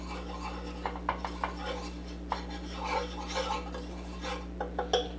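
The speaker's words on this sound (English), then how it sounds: "We're going to take our 3 tablespoons of flour, sprinkle this in here. We're just going to whisk this together." A whisk scrapes and rasps against a pan while flour is worked into a velouté sauce, making soft irregular clicks and rubbing strokes over a steady low stovetop hum.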